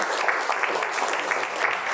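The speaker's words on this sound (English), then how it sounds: "Can we have a round of applause?" Steady clapping from a seated audience at a panel discussion, dense and even across two seconds, with no voices over it.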